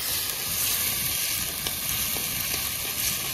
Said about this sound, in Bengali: এরপর টমেটো দিয়ে দিলাম, এরপর ভালোভাবে নাড়াচাড়া করে এই মশলাটা কষিয়ে নেব